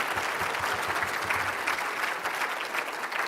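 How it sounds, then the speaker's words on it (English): Dense, full applause from the crowd at the State of Indian Nations Address, steady and loud throughout the short stretch, with no voices over it. "Let's give them another round of applause."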